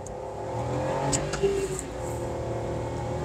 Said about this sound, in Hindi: तो ये देखिए पहले गियर में गाड़ी को हमने उठाया।